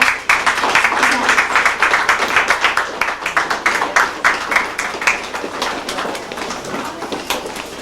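An audience at a community anniversary celebration in New York gives a sustained round of applause, with dense clapping and some voices mixed in.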